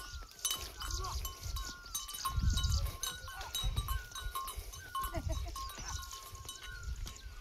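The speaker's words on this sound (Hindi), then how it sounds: "बकरियां भी खेत में आनंद ले रहे हैं आज।" Goats roaming a ploughed hillside farm field in the Pahadi hills, giving a few scattered bleats amid rustling and outdoor background noise, with someone talking nearby.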